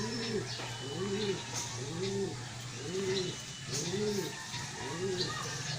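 Pigeons at a loft give soft, evenly paced coos, about six in a row, close but quiet over low background hum.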